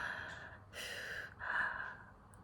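A person exhales slowly during a partner breathing exercise, with two soft, breathy airflow bursts close to the listener and quiet pauses between them.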